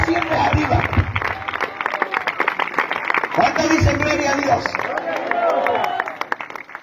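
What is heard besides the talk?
church congregation applauding for God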